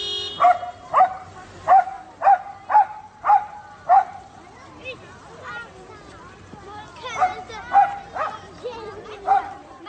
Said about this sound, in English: it always barks at traffic when children need to cross the